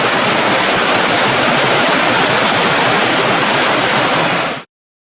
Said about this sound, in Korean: 만갈래의 폭포가 쏟아진다더니 정녕 그 말이 거짓이 아니었구나